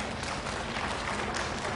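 Audience applause at an international vocational seminar, a dense, steady wash of clapping that sounds fairly distant and stays even throughout.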